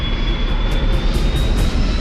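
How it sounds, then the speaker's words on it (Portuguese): Airplane jet engine roaring steadily during a low descent in fog, a loud continuous rumble with a high whine over it, no voices. "O avião baixa."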